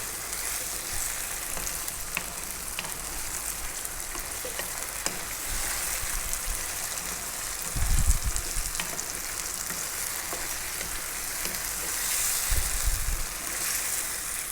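Chopped tomatoes cooking on high heat in a pan for a chicken tomato stew: a steady, close, hissing sizzle throughout, with a couple of louder stirring bursts.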